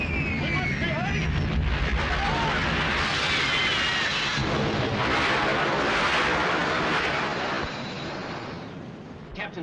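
Heavy naval gunfire from a WWII warship rumbles and booms in a dense, continuous roar with battle din layered over it, loud and close throughout.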